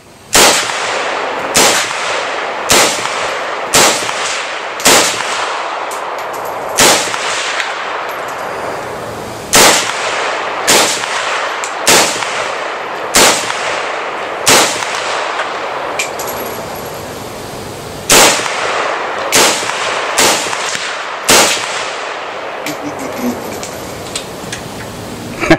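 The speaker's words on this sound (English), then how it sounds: "This is my brother shooting my Romac AK-47." A Romac AK-47 rifle fired outdoors in about twenty loud, sharp, evenly spaced single shots, each cracking loudly with a short decaying echo, and no talking.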